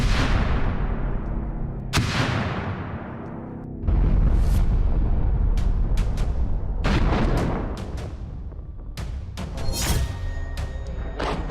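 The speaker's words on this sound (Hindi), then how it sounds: "कैस्पियन सागर में पहला धमाका।" A drone attack on ships in the Caspian Sea sets off a string of heavy blasts, loud booms separated by sharp cracks and crackling bursts, with rumbling decay between the impacts.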